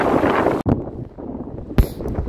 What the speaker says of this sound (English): In the afternoon, it started to be more windy with big waves in the ocean.